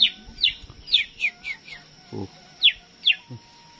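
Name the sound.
sooty-headed bulbul singing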